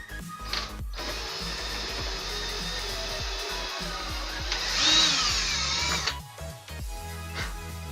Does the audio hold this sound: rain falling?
no